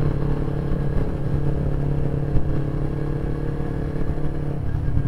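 Motorcycle engine heard from the rider's position, a steady loud drone with a slight rise in throttle midway, under wind rumble, with no speech.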